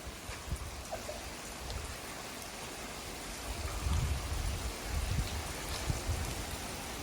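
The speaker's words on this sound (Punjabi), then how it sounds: "ਆਪਣੇ ਤਾਂ ਮੀਂਹ ਪੈ ਰਿਹਾ" Steady rain falls in a continuous hiss, with soft pattering drops and a low rumble swelling slightly midway; no voices.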